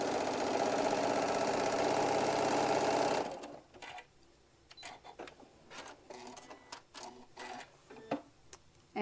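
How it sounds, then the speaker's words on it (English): A sewing machine hums steadily for about three seconds while stitching down a quilt block, then stops, followed by soft scattered clicks and fabric handling noises close by. "here we're going to go ahead and stitch it down"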